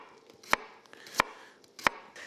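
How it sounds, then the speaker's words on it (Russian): Three sharp knife chops through carrots on a cutting board, evenly spaced about two-thirds of a second apart, close and crisp over a quiet background. "Я люблю, в общем, руками нарезать морковку."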